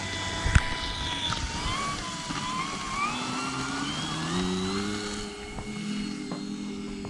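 An FMS Pitts 1.4 RC model biplane takes off on a 5055C battery pack, its electric motor whining and climbing steadily in pitch with a few knocks early on.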